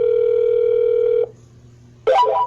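A steady telephone dial tone from a single line dialer drones for about a second, breaks off into near silence, then a short burst of tone-dialing beeps follows.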